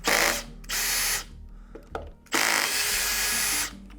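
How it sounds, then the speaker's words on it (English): A power driver whirs through two bursts, one short and one longer, backing screws out of the piston end plate on a DROP 1-inch water softener valve, with a brief clack between runs and no talking. "With the power head removed, I've just got 4 more screws to get this piston out."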